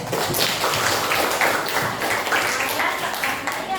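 Students in a classroom clapping together, a steady patter of many hands applauding for a few seconds at moderate volume, with voices mixed faintly underneath.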